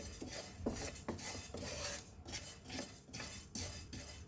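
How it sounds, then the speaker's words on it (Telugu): A utensil stirs sesame seeds slowly roasting in a pan, making soft, repeated scraping and rustling strokes in a slow rhythm, close and fairly quiet, with no one talking. "నువ్వుల్ని నిదానంగా వేయించుకోవాలి"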